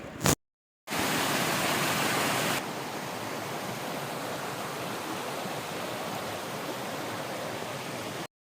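A small waterfall in Malappuram pours with a steady, dense roar that stays loud and unbroken throughout, dipping slightly in level partway through, with no voices.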